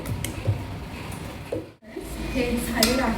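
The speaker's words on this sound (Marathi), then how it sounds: "मी आता भांडे घासते" Utensils, pots, lids and plates clink and scrape during dishwashing in a home kitchen, with intermittent metallic knocks and occasional speech close by.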